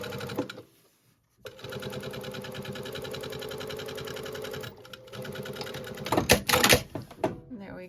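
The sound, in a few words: sewing machine stitching down center of fabric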